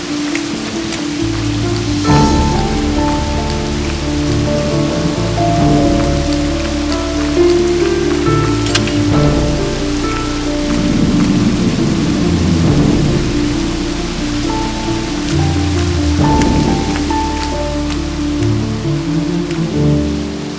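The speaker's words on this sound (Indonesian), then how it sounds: "Hujan tambah deras, lari yuk." Heavy rain pours down steadily and loudly on surfaces, with rolling thunder rumbling through the downpour at intervals.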